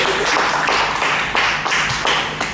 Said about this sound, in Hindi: आप जोरदार तालियों से स्वागत करेंगे